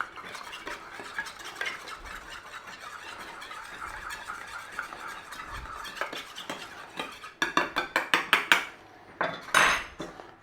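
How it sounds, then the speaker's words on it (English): Fennel is stirred with a squirt of lemon juice in a bowl, giving soft clinks and scrapes that turn into a run of sharp, rhythmic utensil taps against the bowl toward the end. Nobody speaks. "I'm going to give that a mix"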